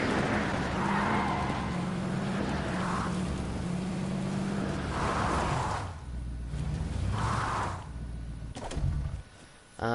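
A fast car in the game Fortnite drives with a steady engine roar and repeated tire skids and squeals, loud and close, briefly dropping near the end before revving again.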